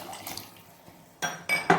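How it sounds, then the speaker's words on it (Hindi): Water poured from a container into a pot of black chickpeas for pilaf, arriving as three short splashing bursts with faint clinks of the pot, after a quiet kitchen lull. "अब मैं इसमें पानी डाल दूँगी"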